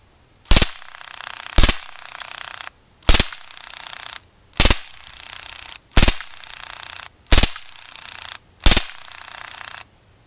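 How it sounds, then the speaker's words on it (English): Modified Drozd Blackbird air pistol fires seven sharp, loud bursts in steady succession, each a tight rapid crackle with a brief mechanical tail before the next, no talking between them. "We'll do a 3-round burst first."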